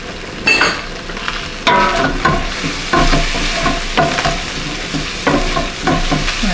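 Spaghetti and carbonara sauce sizzle loudly in a hot pan while being stirred and tossed, with repeated scraping and clattering strokes over a constant frying hiss, close and busy throughout.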